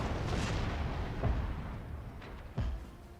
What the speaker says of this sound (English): Tons of artillery fire.